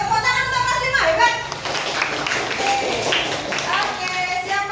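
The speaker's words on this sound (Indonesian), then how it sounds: "Oke, tepuk tangan untuk kelas 5" Fifth-grade class at an elementary school clapping for themselves, a burst of scattered hand claps under a teacher's voice and children's chatter, close and lively.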